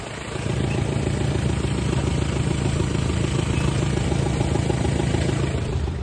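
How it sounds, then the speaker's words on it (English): A Daihatsu Mira car engine runs up from a quieter start into a loud, close, sustained mechanical drone with a clattery edge, holding steady throughout with no voices. "Let's give it some revs"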